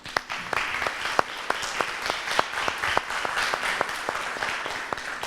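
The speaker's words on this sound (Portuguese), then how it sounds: "Vamos dar uma salva de palmas?" A church congregation breaks into applause, steady overlapping clapping with distinct sharp claps standing out, moderately loud and continuous with no talk over it.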